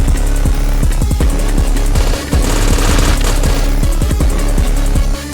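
Loud, continuous rapid-fire gunfire from a retro-style boomer shooter game, dense bursts of shots with booming impacts layered over a steady driving soundtrack, barely pausing throughout.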